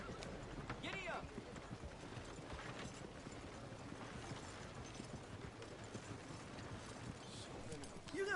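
A horse's hooves clip-clopping at a steady run in a PS4 video game, a constant rhythmic patter under dense game ambience and voices.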